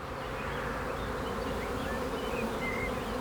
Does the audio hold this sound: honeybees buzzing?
yes